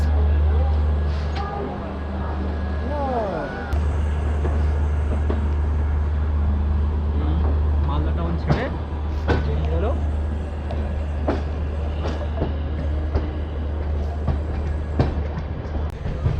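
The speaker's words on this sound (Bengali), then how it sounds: "মালদা টাউন স্টেশনের এক নম্বর প্ল্যাটফর্ম থেকে ছাড়লো গৌড় এক্সপ্রেস" The Gour Express pulls away from platform one at Malda Town station on a cold night, a deep rumble with clattering wheels and squeals building steadily, while voices talk nearby over the noise.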